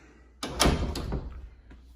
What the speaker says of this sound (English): This door's operated on a ball bearing.